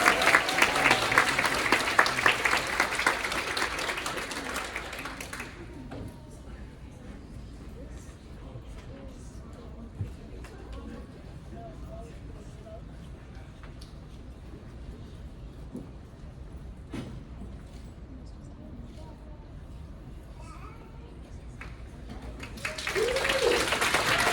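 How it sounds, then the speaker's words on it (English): An audience at a morning award presentation claps for the winners, a loud burst of applause that fades into quiet murmuring and rustling before clapping swells again at the end. "Another round of applause for all of our award winners."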